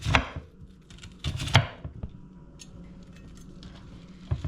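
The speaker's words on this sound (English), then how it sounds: "And then for my onions, I'm gonna do the same thing too, roughly chop." A knife roughly chops onions on a cutting board, a few sharp knocks near the start, then a lighter scattered patter of cuts and a final couple of taps, close and clear with no voices.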